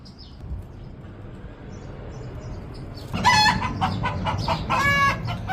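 Free-range native country chickens in a small farm garden in Dubai cluck and crow, faint at first and then loud and near, with repeated bursts of clucking over outdoor background noise.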